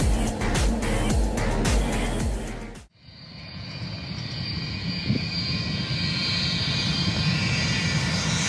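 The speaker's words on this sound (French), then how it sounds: "voici à quoi ressemble le ravitaillement en vol à partir d'un Boeing Stratotanker" A Boeing Stratotanker on an in-flight refuelling mission gives a loud, continuous roar of jet engine and wind noise, then after an abrupt cut a steadier broadband airflow rush that holds without talk.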